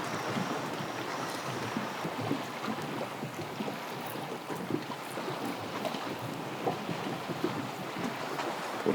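A small boat rocks alone at sea off Gavdos, with steady wash of waves and gusty wind buffeting the microphone throughout, no one talking.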